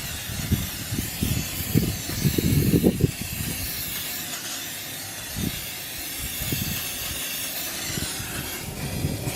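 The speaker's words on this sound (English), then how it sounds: "So first shake it and then just spray it on." Several short hissing spray bursts from an aerosol can of Turtle Wax Wet 'N' Black tire shine, close by, in quick succession, followed by a couple of isolated sprays against a steady background hiss.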